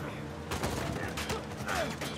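Gunfire coming from all sides in Uncharted 4, a dense crackling fusillade of shots close by with a voice reacting over it.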